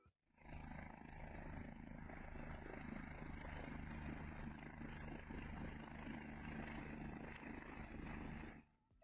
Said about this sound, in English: how do you land a helicopter on the side of a mountain?